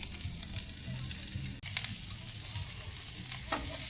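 Hot Italian sausages sizzle over high heat on a Blackstone griddle, a steady crackling fry with brief scraping and stirring sounds on top, close and continuous, with no one talking.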